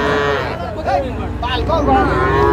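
A calf lows among cattle at a crowded Bangladeshi livestock market, where a Jersey crossbreed calf is on sale. Several drawn-out moos rise close by over steady crowd noise, and people talk through the whole stretch.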